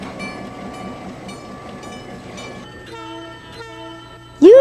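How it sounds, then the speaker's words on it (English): A very old box cab electric locomotive running under overhead catenary, heard close and loud with a rhythmic rolling clatter and droning tones, then a brief sharp horn-like blast at the end, with no talking. "Here is a very old box cab electric."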